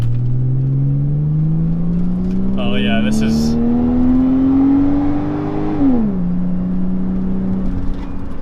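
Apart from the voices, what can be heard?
2008 Saab 9-7X straight-six engine accelerating from a red light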